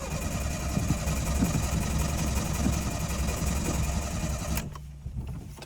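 A Renault 11 engine idles after starting, a steady rough mechanical chugging that runs continuously, close and moderately loud, before cutting out abruptly near the end.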